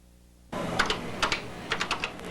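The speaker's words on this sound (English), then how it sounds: "type in this short little function." Typing on a Color Computer keyboard begins abruptly after a brief hum: a run of quick, close, clattering keystrokes in an uneven rhythm, with no one talking.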